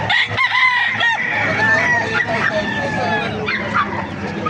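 A rooster crows loudly and close by at a chicken market in Baliuag, with clucking fowl and people talking throughout the busy trading scene.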